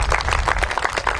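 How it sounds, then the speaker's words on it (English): Applause from a crowd at the opening ceremony of a village feast, a dense, steady patter of many hands clapping together, fairly loud and close, with no voices over it. "So we could have a round of applause for Chris, please, and his committee."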